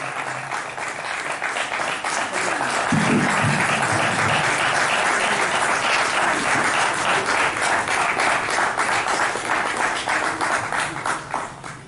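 An audience applauds at a cycle rally flag-off and reception, the clapping swelling within the first few seconds into a steady, rhythmic wash that runs on without pause before easing slightly at the end.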